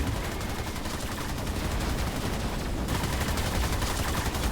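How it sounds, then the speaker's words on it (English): Spaceship battle in the sci-fi strategy game Beyond Astra, with dense rapid gunfire and blasts from attacking gunships rattling continuously and loudly throughout, no talk over it. "Oh, they're shooting at us is what they're doing."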